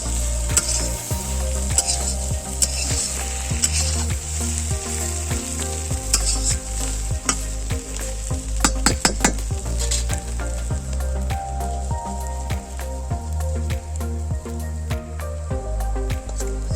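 Drumstick pieces fry with spices in a pan, the oil sizzling loudly and close while a spatula scrapes and stirs in a steady repeated rhythm.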